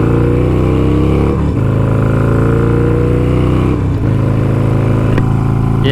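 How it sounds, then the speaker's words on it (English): A Harley motorcycle engine runs loud and close, its throbbing note rising steadily in pitch through each gear, with two brief dips where the rider shifts before the revs climb again. "this shifting on this Harley is just so smooth"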